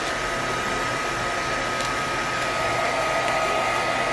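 Heat gun blowing steadily on car window tint film, a continuous close, loud airy whoosh with a fan hum that holds evenly throughout.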